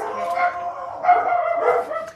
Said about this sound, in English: whenever they bark, they're just talking